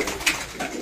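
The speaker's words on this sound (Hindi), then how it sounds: "ये देखो कबूतरों को दाना खिला दिया" Pigeons fed grain in a village coo softly at close range, a couple of low throaty calls with a brief rise in the middle, and no talking over them.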